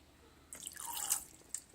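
A small toy doll dipped into water, giving a soft splash and a run of quick drips and trickles over about a second, then a brief second drip near the end, faint and close with no talk.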